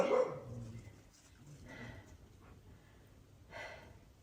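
Dogs bark a few times at a distance on a rural shed-building site in Portugal, short faint outbursts with breathing and quiet pauses in between.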